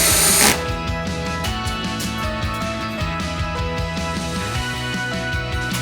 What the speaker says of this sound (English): it is very easy to place the second coach screw